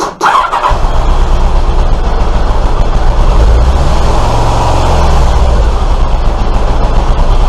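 A Kawasaki motorcycle engine cranks and catches with a touch of choke, then settles into a loud, steady, low rumbling run close by, with the revs rising slightly midway.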